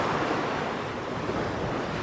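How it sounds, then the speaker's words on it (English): Ocean waves surge in a continuous loud wash, mixed with wind buffeting the microphone, heard near and steady with no talk. "It was raining the whole night, and now there's quite some waves."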